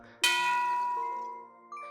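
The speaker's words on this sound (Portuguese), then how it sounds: "Ele tocou a campainha do altar budista." A Buddhist altar bell is struck once, giving a bright metallic ding that rings on and slowly fades, with a faint second tap near the end, heard alone in a quiet room.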